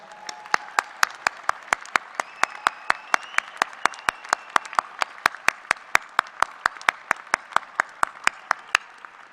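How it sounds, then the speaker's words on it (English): Single, evenly spaced sharp claps ring out in a large hall at a university engineering commencement, a steady rhythmic beat over faint background murmur and a brief tone. "join me in giving your loved ones a big and well-deserved round of applause"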